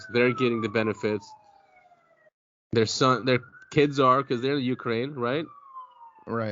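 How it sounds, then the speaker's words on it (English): Police car sirens sound faintly outside on a main road, a sweeping, gliding wail running steadily beneath a close conversation between two men that continues over it. "Sorry about the sirens."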